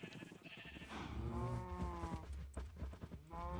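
Cows mooing repeatedly in Minecraft, several drawn-out harmonic lows overlapping close by, with farm animal bleats mixed in over a steady game background.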